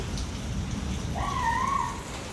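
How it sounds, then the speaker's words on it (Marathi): Steady, dense rain hiss fills the clip, with a brief high tone drifting over it midway; no voices. "पाऊस लागलो वाईस तसं मम्मीने लगेच पाटल्यादारचं सगळं स्कूप घेतले."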